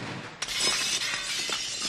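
Glass shatters in a film scene: one sharp crash followed by scattered tinkling fragments, loud and close, with no talking.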